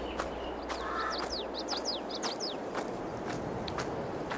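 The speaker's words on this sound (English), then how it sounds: "Birds are chirping." Birds chirp outdoors on a spring day in March near an open door by a grass field, a quick run of short descending chirps in the first half over a steady open-air hush, with a few soft caws.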